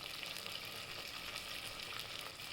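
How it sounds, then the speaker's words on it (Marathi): Whole spices, including cloves, cinnamon and cardamom, sizzle softly in hot oil for rajma masala, a steady faint hiss and crackle with no voices. "आपण सगळं तेलात छान परतून घ्यायचं."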